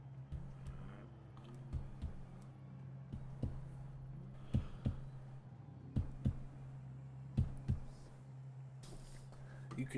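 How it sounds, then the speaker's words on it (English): Soft heartbeat thumps in close double beats recur through a Forza Horizon 5 race, sitting over a steady low engine hum and faint in-game noise. "You can hear my fucking heart beating."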